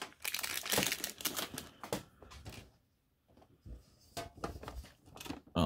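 A plastic package holding a Transformers keychain and pins is opened, with bursts of close crinkling and crumpling plastic that pause briefly midway and then resume.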